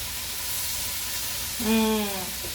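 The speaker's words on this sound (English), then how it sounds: "And then you're going to stir all your goodness in it." Semi-homemade skillet gnocchi is stirred with sauce in a hot pan, giving a steady sizzle. Midway, a short squeaky tone briefly rises above it.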